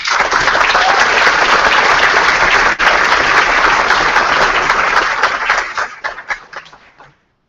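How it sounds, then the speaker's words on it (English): A conference audience at a coding summit morning session gives a warm round of applause for a speaker, loud dense clapping that holds steady for several seconds before thinning into scattered claps and stopping. "So let's give her a warm round of applause."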